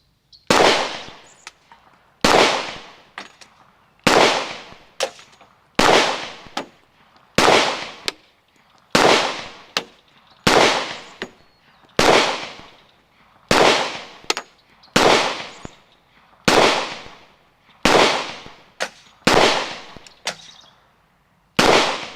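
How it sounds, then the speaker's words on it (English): Glock 20 pistol fired at a steady pace, about fifteen sharp, loud shots with short ringing decays between them and no talking. "Now let's do the Glock 20."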